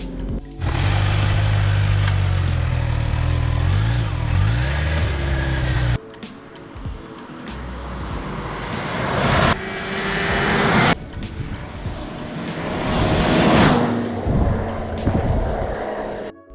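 A Kawasaki H2 SX SE motorcycle, rebuilt after damage, heads out on a test ride, its engine roaring loud and close with rising and falling revs and a couple of abrupt cuts between passes.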